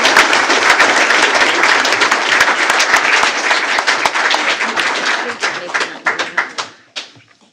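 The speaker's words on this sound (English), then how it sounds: "how about a big giant round of applause for Miss Jenny Meyer?" An audience at a school board of trustees meeting applauds loudly in a dense, sustained wash of clapping that breaks into scattered individual claps and fades out near the end.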